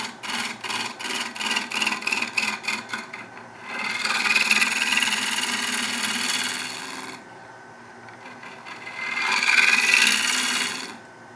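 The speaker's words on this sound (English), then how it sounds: "So the first tool I'm going to use is a 19mm bowl gouge by Woodcut Tools." A 19mm Woodcut bowl gouge with a 55-degree bevel cuts wood on a lathe while turning a small dish, starting with rapid rhythmic ticking scrapes, then two long, steady hissing cuts separated by a quieter pause.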